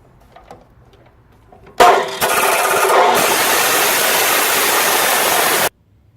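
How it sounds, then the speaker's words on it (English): Chop saw cutting metal stock for a track car's rocker arms: a sudden loud onset, then a steady harsh grinding roar for nearly four seconds before cutting off sharply, close by. "I tried to match the angle so the chop saw would cut at over the white line exactly"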